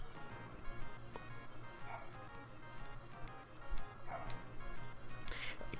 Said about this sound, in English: my dogs are so annoying